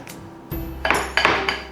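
Coconut sugar and turbinado sugar are stirred by hand in a bowl. A utensil scrapes and clinks against the bowl several times at close range, with no talking.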